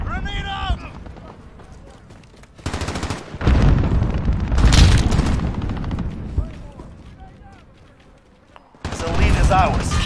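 A grenade blast and rapid gunfire erupt during a Call of Duty Modern Warfare VR multiplayer match, loud bursts of shots and booms clustered in several heavy waves, with in-game voice callouts speaking between them.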